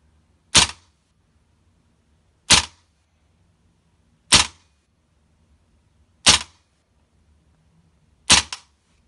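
Five sharp, evenly spaced airsoft rifle shots fired over a chronograph with BBs, about two seconds apart. Each is a crisp, close snap with a short tail, with quiet between them.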